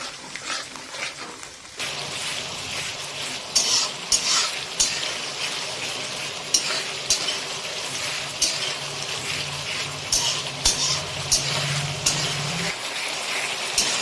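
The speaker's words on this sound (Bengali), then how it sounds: "এটায় আদা আর রসুনের পেস্টটা দিয়ে জাস্ট 2 মিনিট একটু ভাজা হয়ে গেল।" Ginger-garlic paste fries over a low gas flame in a pan for chicken biryani, with a steady soft sizzle underneath and repeated scraping clinks of a spatula stirring the mixture throughout.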